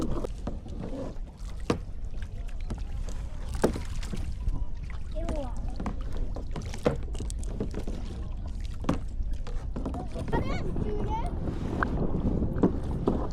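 A small boat paddled on choppy water on a very windy day, with constant wind rumble buffeting the microphone, splashing paddle strokes and voices speaking throughout.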